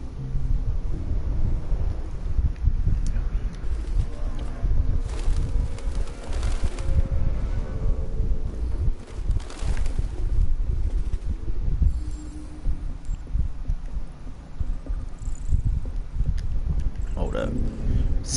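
Pigeons cooing in the Detroit: Become Human video game: low murmuring coos under steady wind-like noise, fairly continuous, with someone talking over them at times.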